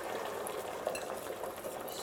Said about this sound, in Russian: На сковороде у тебя что? Омлет.